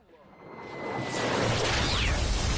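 Movie sound of a giant meteor smashing into something: a whooshing rush that swells into a loud, sustained roaring crash.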